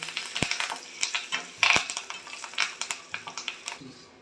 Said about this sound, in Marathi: छोटे 2 चमचे मेथ्या घातल्या, कढीलिंब आणि 2 सुक्या मिरच्या घातल्या। मेथ्या ह्याच्यात तळून घ्यायचे।